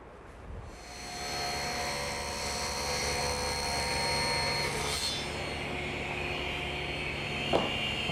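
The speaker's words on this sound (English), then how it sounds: "And I'll make that notch at the table saw." Table saw notching an MDO board, a steady loud whine from spin-up through a sustained cut, with a sharp click near the end.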